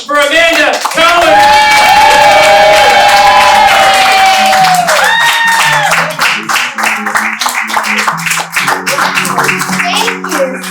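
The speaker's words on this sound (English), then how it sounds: "get the round of applause going for Amanda Cohen!" A live late-show audience claps and cheers for comedian Amanda Cohen as she comes on stage, with steady applause and shouting under loud music that continues throughout.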